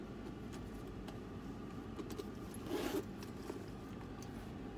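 A zipper on a black leather Coach tote bag with silver hardware runs along its zip-top closure, a soft continuous scraping that peaks briefly near the middle over a low background hum.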